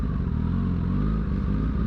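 A Kawasaki Ninja ZX10R motorcycle engine running loud and close, a steady low rumbling drone with slight revving swells throughout.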